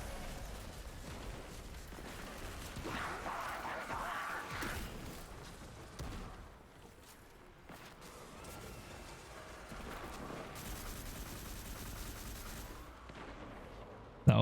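Rocket blasts and gunfire in the sci-fi shooter Destiny 2, a dense stretch of booming explosions and rattling shots at moderate level with a faint voice underneath.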